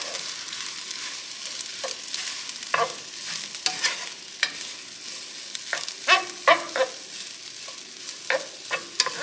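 Fried rice stirred in a hot pan of oil with garlic, onions and scallions, a soft steady sizzle under repeated scraping and clattering stirs of the utensil, close and moderately loud.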